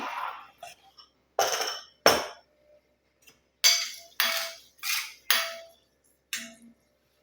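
An iron strainer clinks in a kitchen while hot curry leaf oil is filtered through it, giving about eight sharp metallic taps in irregular bursts, close and fairly loud, with short silences between them.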